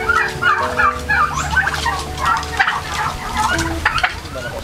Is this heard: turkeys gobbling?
yes